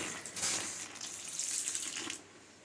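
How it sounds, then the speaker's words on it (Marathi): Water is poured in a thin, steady stream into a bowl of mixed lentil batter, a soft close splashing trickle lasting a couple of seconds before stopping, with no voices. "थोडं थोडं पाणी घालून"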